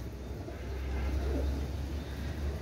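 Pakistani pigeons in a loft coo softly at a distance, a low, faint murmur over a steady background hum.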